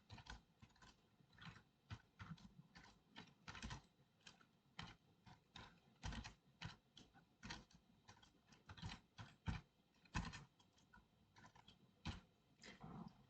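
Code being typed on a computer keyboard, a steady run of quick, close key clicks in irregular bursts with brief pauses, heard alone and fairly quiet.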